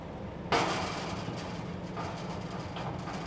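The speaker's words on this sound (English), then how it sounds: "and the train will head for Picton" A train in New South Wales, running at a Day Out with Thomas event, moves off toward Picton with a sudden rushing onset and then a sustained rumble, punctuated by faint clanks from the cars.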